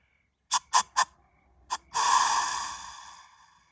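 A human voice imitates a whitetail deer snort-wheeze: three quick sharp puffs of air, a fourth after a short gap, then a drawn-out breathy hiss that fades, close and isolated.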